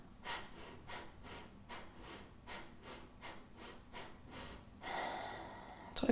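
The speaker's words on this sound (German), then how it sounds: "Drückt alle Luft aus der Lunge raus." Forceful exhales through the nose during a yoga breathing exercise: a rapid, evenly spaced series of about a dozen sharp puffs, then one longer, harder push of air, close and alone.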